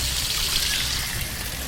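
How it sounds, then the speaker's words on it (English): Bilge pump pushing water out through the stern of a boat, a steady close splashing trickle that runs unbroken throughout with no voices. "You can see that that we're pumping because there's the water pumping out"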